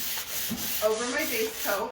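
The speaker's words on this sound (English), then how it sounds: "So I do my light sanding" Light hand sanding over a base coat on a wooden tea cart, with soft, scratchy rubbing strokes close by while someone speaks over them.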